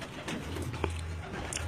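Pigeons coo softly in a short burst, a low throaty murmur with a faint chirp above, heard from nearby in a quiet outdoor setting.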